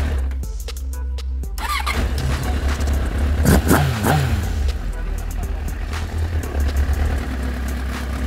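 A rebuilt Kawasaki ZX9R motorcycle engine runs close by with a steady low rumble, rising into a few quick revs midway before settling back, while people talk over it.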